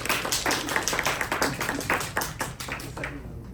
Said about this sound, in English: The applause is going to go to his head